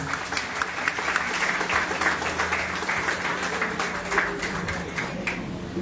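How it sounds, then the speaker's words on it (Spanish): Steady applause from guests at a quinceañera celebration for the España Martínez family, a dense continuous clatter of many hands filling the room, with a low musical hum underneath. "Un fuerte aplauso para ellos y un fuerte aplauso para cada uno de ustedes"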